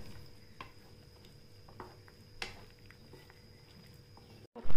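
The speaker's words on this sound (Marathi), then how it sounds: "हे छान हलवून घेऊया आपण." Cooked rajma is stirred into masala in a pan, soft scraping and light clinks of a spoon against the pan over a faint sizzle, close and quiet, ending in a sudden loud burst.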